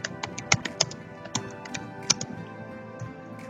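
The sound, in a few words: typing on a computer keyboard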